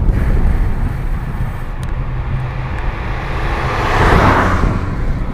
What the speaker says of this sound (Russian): И как-то так ветер так свежо дует